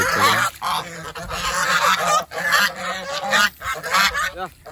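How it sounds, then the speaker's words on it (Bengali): A flock of king geese honking loudly and continuously, many overlapping calls close by with no pauses. "আর একসাথে সবাই চেঁচামেচি শুরু করে দিতেছে"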